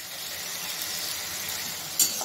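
Potatoes fry in a pan with whole cumin seeds, giving a steady close sizzle and hiss, with a brief scrape of stirring near the end.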